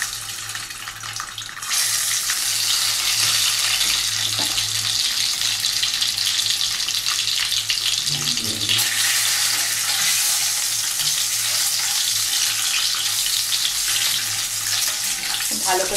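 Beaten egg hits hot oil for a chicken stew, bursting into a loud, steady sizzle after a quieter opening moment that carries on unbroken, with a brief stir or clatter midway.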